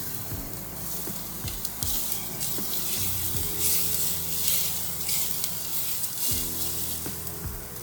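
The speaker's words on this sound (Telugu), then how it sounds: "నూనె వేడెక్కింది. ఫస్ట్ జీలకర్ర, తర్వాత వెల్లుల్లి" Cumin seeds and garlic hit a teaspoon of hot peanut oil in a pan, crackling and sizzling steadily with a few stirring clinks and scrapes, fairly close and without talk.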